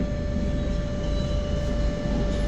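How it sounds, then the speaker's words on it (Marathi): A train arriving at a station gives a steady, loud rumble with a sustained tonal hum throughout, and no voices. "ट्रेन आली"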